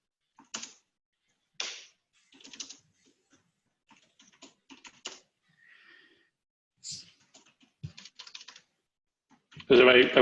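Light, scattered bursts of typing on a computer keyboard during an online meeting, close and soft, with irregular pauses and a louder rustle at the end.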